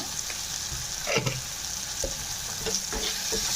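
Potatoes frying for aloo dum are stirred in a hot pan, with a steady sizzle and the scrape of the spoon against the pan at intervals, close and moderately loud, with no talk.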